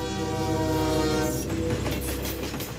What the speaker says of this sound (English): engineers are testing an experimental train that all but eliminates track friction